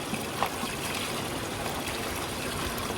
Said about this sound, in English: Now I'm going to kind of wash this down